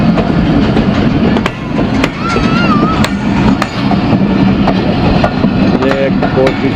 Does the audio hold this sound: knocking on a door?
no